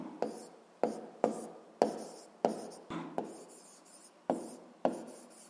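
Pen strokes scratching on paper as notes are written, a series of about ten short rubbing bursts each starting sharply and trailing off, close and fairly quiet with no talk.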